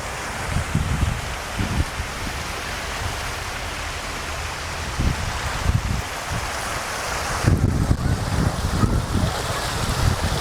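Waves wash along the Abu Dhabi Corniche in a continuous surging hiss, with gusting wind buffeting the microphone and low rumbling bursts, close and fairly loud.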